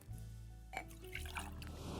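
Whiskey drink poured from a crock pot after an orange peel is squeezed over it, a continuous liquid trickle and splash lasting about two seconds, close and moderately loud.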